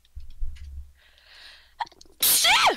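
A single sharp, loud sneeze bursts out near the end, preceded by soft breathy sounds and faint low thumps.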